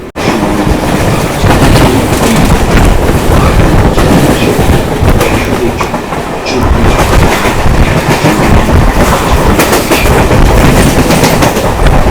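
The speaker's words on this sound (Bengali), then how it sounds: "আমাদের ট্রেনটা এখন দমদম ক্যান্টনমেন্ট স্টেশন থেকে ছেড়ে দিল" A local train on the Sealdah–Bangaon line pulls out of Dum Dum Cantonment station, its loud, close rumble and steady clickety-clack filling the whole stretch without pause.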